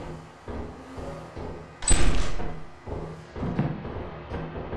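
A door in a horror video game opens with a loud thump and rising sweep, standing out over a steady low background, with no talk over it.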